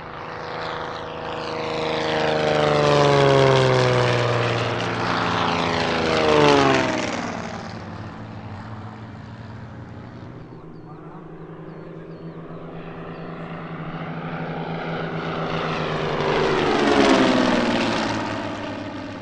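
Zlin 50 aerobatic propeller aircraft at the Leszno airshow, a loud engine drone sweeping up and down in pitch as it passes, fading in the middle and swelling again toward the end.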